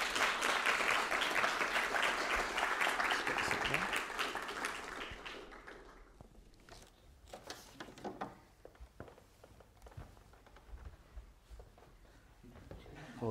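A debate audience bursts into loud applause that holds for about five seconds, then fades into scattered claps, shuffling and small taps as a speaker takes the stage.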